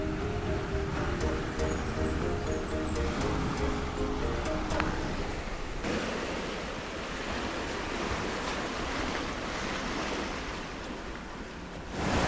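Early-morning waves wash onto Playa Sosúa, a constant broad surf hiss with wind buffeting the microphone, moderately loud and unbroken, with no one speaking.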